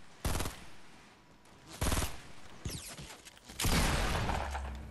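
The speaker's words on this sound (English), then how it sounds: "Someone else is shooting at me from up there." Gunfire in the Fortnite video game: several loud bursts of shots, a rapid volley near the start, another around two seconds, and a longer heavy burst near the end, with quieter gaps between.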